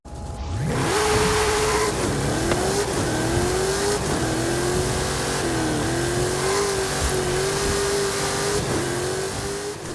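A Funco race car in a racing video game accelerates hard through a turn, its engine note rising and then holding at a high, wavering pitch with small dips as it shifts, loud and continuous.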